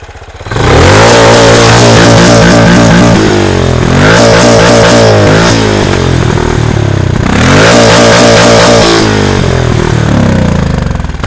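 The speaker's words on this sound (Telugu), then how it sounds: "మనం ఆర్పిఎం ఎక్కువ ఇస్తే మామూలుగా సైలెన్సర్ చేంజ్ చేస్తే పాప్స్ వస్తాయి కదా, అలా దీనికి కూడా లిటిల్ పాప్స్ వస్తాయి" Benelli 400cc sport motorcycle with a changed silencer revved hard three times, each loud, close rise of engine roar falling back with crackling pops as the revs drop.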